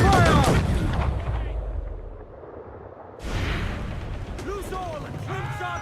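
Cannon fire from a sailing warship's broadside in the pirate-era naval battles of Assassin's Creed IV Black Flag, loud booming blasts at the start and again near the end, with shouted crew orders and splashing sea noise between the shots.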